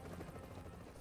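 Helicopter in the video game Tom Clancy's The Division, a faint, continuous rotor drone with a low throbbing flutter heard at a distance throughout.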